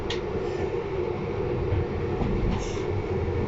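A train passes by in Nowa Huta, Kraków, a steady, fairly close rolling rumble with faint metallic squeals over its length.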